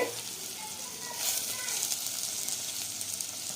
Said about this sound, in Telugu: పోపు వేగింది కదండి, ఇప్పుడు ముక్కలు ఒక్కొక్క ముక్కలో వేసుకుందాము.